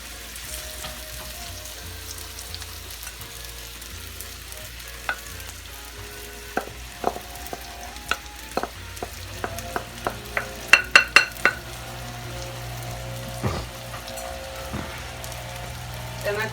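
Shrimp fried rice is stir-fried in a pan at home, with a soft sizzle under scraping and clattering of a utensil against the pan, and a quick burst of sharp clicks partway through.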